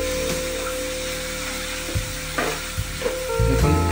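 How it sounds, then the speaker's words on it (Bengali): Mushrooms frying in oil in a pan give a steady, close sizzle that runs throughout, broken by a few utensil scrapes and stirring knocks near the end. "দেখুন ফ্রাই হচ্ছে।"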